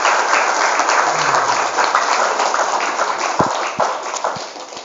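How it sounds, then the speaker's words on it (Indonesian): An audience at a motivational seminar with Islamic boarding school students claps loudly, a dense sustained round of applause that eases slightly toward the end, with a few distinct claps near the close. "tepuk tangan untuk Darul Huda people hari ini"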